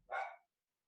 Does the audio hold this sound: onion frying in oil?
no